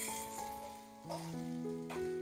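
Onion dropped into hot oil in a kadai with mustard seeds and fennel, frying with a steady close sizzle that rises in bursts as pieces land, alongside faint tonal background sounds.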